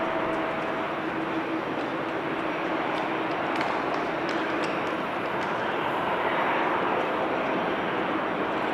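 A United Airlines Boeing 787-9 airliner taxis with a steady, broad engine rumble and hiss that holds at an even level throughout, with no voices over it.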